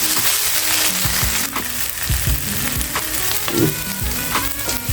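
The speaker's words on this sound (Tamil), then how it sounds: "இது நல்லா வதங்கட்டும்." Onions with ginger-garlic paste sauté in a hot pan for seafood biryani, giving a steady loud sizzle with scraping stirs and clinks throughout.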